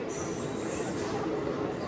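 Nellore to Vijayawada MEMU Express train coming to a halt after leaving Bapatla, heard from inside as a continuous close rumble with hissing and faint wheel squeal.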